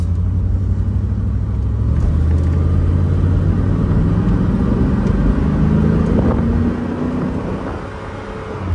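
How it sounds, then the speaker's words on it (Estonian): A big luxury convertible's engine rumbles deeply and steadily close by, its pitch rising slowly as it revs, then easing back. "see suur mootor, see teeb ikka väga-väga mõnusat mehist mürinat"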